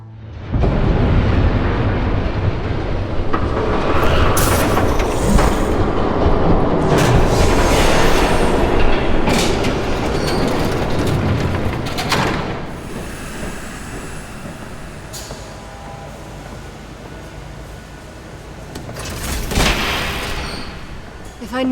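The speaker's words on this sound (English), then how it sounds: "There's a train coming." Train in Batman The Telltale Series rumbling loud and close as it passes, a heavy sustained roar that slowly fades, with voices speaking over parts of it.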